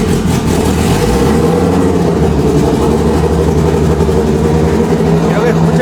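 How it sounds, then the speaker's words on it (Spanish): The engine of a Toyota Caldina GTT drag racing car runs with a steady, loud, low rumble throughout, with someone talking over it. "ahora les voy a enseñar el proceso de cómo se arranca un auto de picadas"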